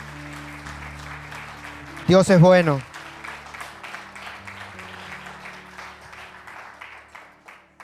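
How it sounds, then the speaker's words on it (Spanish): A church congregation applauds in a dense, even patter that runs throughout, while a loud voice calls out briefly over the clapping. "¿Por qué no le damos un fuerte aplauso a nuestro Dios?"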